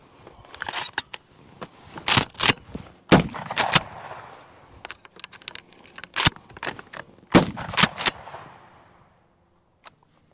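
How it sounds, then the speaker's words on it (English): Shotgun firing double-aught buckshot, a quick string of sharp, loud blasts with irregular spacing, each followed by a short crack and brief decay, ending in near silence. "Shoot some double-aught buck here."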